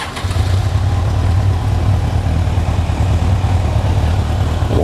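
A Kawasaki motorcycle engine, a Z1000 Sugomi or Ninja 1000SX, runs at a steady, loud, close idle with a deep rumble and no talk over it.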